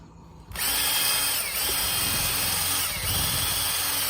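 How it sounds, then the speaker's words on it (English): A power drill with a paint stirrer attachment whirs steadily and loudly after a brief quiet start, its motor pitch dipping slightly twice as it churns through thick RV roof coating. "I'm going to be stirring it, not by hand, but with a drill with a paint stirrer attachment"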